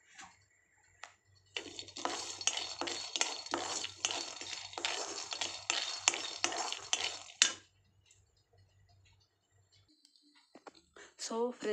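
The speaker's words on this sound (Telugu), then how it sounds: "ఫస్ట్ ప్యాన్ పెట్టుకొని స్టవ్ ఆన్ చేసి పల్లీలు వేయించుకోవాలి ఫ్రెండ్స్." Raw peanuts being dry-roasted and stirred in a pan on a stove, a busy stretch of scraping, clicking and rattling against the metal that stops abruptly, leaving faint kitchen sounds.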